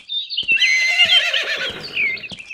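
A horse gives a single loud, close whinny that rises and wavers for about two seconds before trailing off, with a soft clop at the end.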